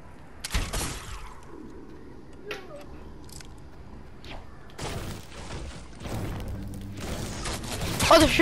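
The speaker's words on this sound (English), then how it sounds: "Oh, they're shooting me." Fortnite gunfire comes in scattered sharp cracks, then denser bursts of shots and impacts build toward the end, fairly close and growing louder.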